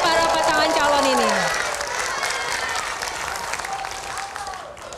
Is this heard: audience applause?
yes